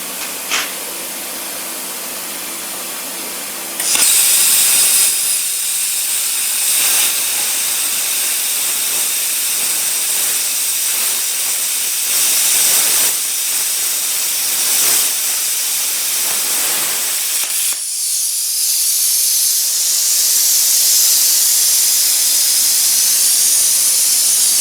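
A Primeweld CT520DP plasma cutter slices through quarter-inch metal with a loud, steady hissing roar that kicks in abruptly, runs for about fourteen seconds with slight wavering, then cuts off into a lighter air hiss.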